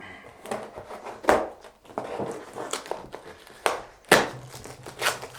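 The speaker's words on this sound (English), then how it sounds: "I got my trusty knife, so watch it. Let's go ahead and get this cut open." A knife slices open a cardboard shipping box with a series of sharp tearing rips and scrapes, several distinct bursts of crinkling cardboard close by, with quieter rustling between them.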